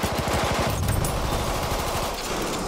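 Rapid automatic fire from an SM 08/18 machine gun in Battlefield 1, a loud, dense stream of shots running almost the whole way with no pause, in heavy in-game battle noise.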